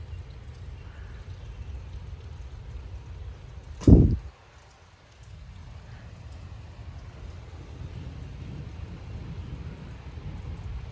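A severe thunderstorm in Frisco, Texas, with 40 mph wind gusts: steady rain and wind roar throughout, broken by one loud, close thunder crack and rumble that fades quickly before the rain hiss returns.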